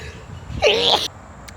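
A single sharp sneeze bursts out close up, a quick intake followed by a forceful explosive burst lasting about half a second.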